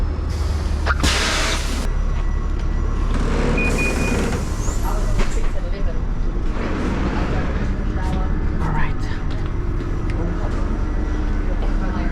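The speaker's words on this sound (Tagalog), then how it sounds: "oh ito na yung bus mga kapinboy" City bus number 361 pulling up and idling, a loud low engine rumble with hissing air brakes and door sounds, people talking over it nearby.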